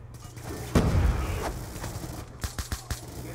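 A sentry gun in Call of Duty Black Ops 2 fires a rapid burst of sharp shots at the start, and later fires several quicker, evenly spaced shots over steady background game noise.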